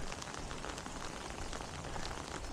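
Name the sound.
rain falling on forest trail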